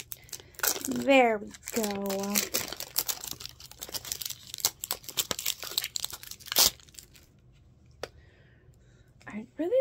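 A mystery ornament package is torn open up close, with crinkling and ripping of the foil wrapper under a voice chatting excitedly.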